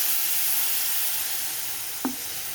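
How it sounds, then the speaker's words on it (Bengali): Ground spices frying in a pan give off a steady, close sizzling hiss that eases slightly, with one short utensil knock near the end. "তার জন্য আমি একটু জল দিয়ে দেবো যাতে মশলাটা না পুড়ে যায়"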